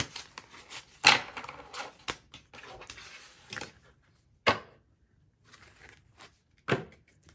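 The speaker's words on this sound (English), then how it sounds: "I'm going to go ahead and shuffle all the cards." Tarot cards are shuffled in several quick papery bursts, irregular riffles and slides separated by short pauses, close and soft.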